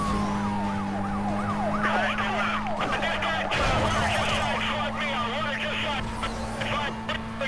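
Police car sirens wail in Need for Speed Most Wanted (2005), several overlapping, sweeping up and down continuously over a steady engine drone, with a louder burst of overlapping sirens midway and someone talking throughout.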